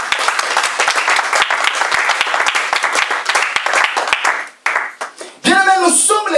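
A church congregation bursts into loud, sustained applause and clapping during a service, dense and close, then fading out before a voice speaks over the room near the end.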